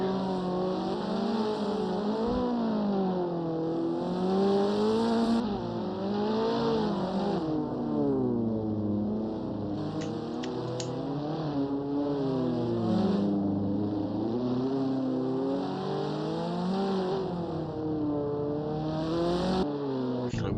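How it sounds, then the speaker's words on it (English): Race car engine in a sim racing cup final, steadily revving and shifting through gears on a qualifying lap, continuous and close with pitch rising and falling, a commentator's voice talking over it. "Dylan already damaged on his car. Coming in, so he'll start a flyer now"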